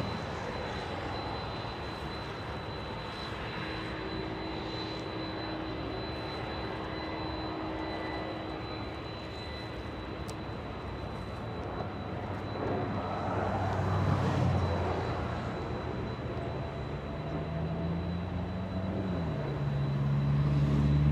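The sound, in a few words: airplane arriving at LAX airport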